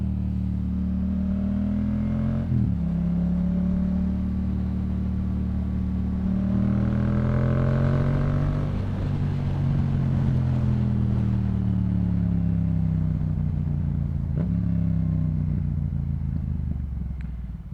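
A Yamaha MT-07 motorcycle engine drones loudly and continuously while riding through commuter traffic, its pitch rising and falling with gear changes and throttle, with wind rush throughout.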